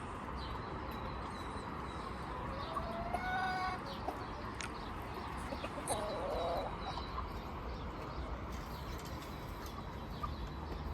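A broody hen with a crooked jaw gives soft clucks and a brief call amid constant outdoor background noise, faint and partly masked, without speech.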